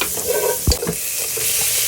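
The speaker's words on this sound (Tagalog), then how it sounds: "Ayan, gigisa po tayo ng bawang." Garlic sautéing in a pan as the base for a chicken and pork apritada, giving a steady, close hiss of frying with one dull thump of a utensil against the pan partway through. No one speaks.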